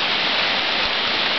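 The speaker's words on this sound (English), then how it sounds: "I just love rain." Steady rain pouring down beside a front porch, a dense uniform hiss of drops with no breaks.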